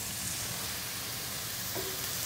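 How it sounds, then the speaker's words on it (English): Cajun-spiced scallops sizzle in a hot pan, a dense, steady frying hiss that fills the whole stretch at close range, with a brief faint tone partway through. "You can see they're starting to sizzle a little bit."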